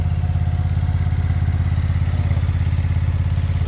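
Cub Cadet 2084 garden tractor with an air-cooled engine running steadily up close, a loud, even throbbing idle with light mechanical clatter and no talk.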